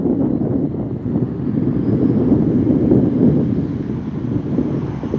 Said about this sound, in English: there's a NetJets Cessna 700 Citation Longitude